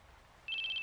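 A phone in the horror video game Corpse Party begins ringing halfway through, a bright electronic trilling ring pulsing in quick repeated bursts after a brief quiet stretch.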